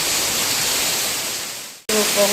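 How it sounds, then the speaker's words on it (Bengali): Heavy monsoon rain pours down over flooded streets with a dense, loud, steady roar; it cuts out abruptly near the end and resumes, with brief tonal sounds over the downpour. "ওই যে দেখো গাইস কি পরিমাণে বর্ষা হচ্ছে, পুরো ভিজা গাইস।"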